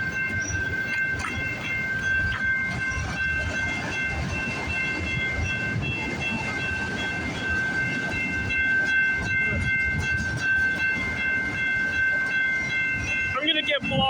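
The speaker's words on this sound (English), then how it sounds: "we got another train coming." A CN train rolls past on the Dundas Subdivision, a steady nearby rumble of rail cars with rhythmic wheel clatter and a sustained horn-like tone, running continuously while someone speaks briefly.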